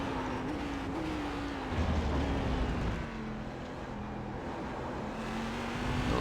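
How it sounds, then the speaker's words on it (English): Cadillac CTS-V race car with a big V8 in iRacing at Road America, a steady, moderately quiet engine drone that holds and shifts pitch slightly as it runs, with no talking. "A lot of torque in this car, obviously, big powerful V8."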